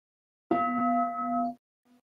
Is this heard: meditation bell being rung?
yes